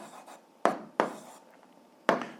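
Pen or chalk writes down an algebra answer in a close, quiet room, with three sharp strokes each fading into a short scratchy trail.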